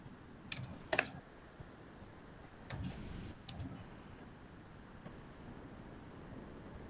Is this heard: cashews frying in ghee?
no